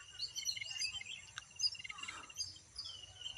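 A small bird chirps and tweets among trees outdoors, bright short calls scattered through the clip over a faint low background hum, with no voices.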